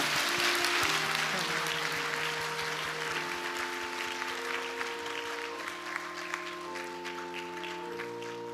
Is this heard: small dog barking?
no